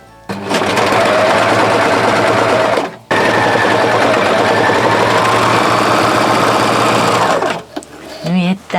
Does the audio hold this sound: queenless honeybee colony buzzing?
no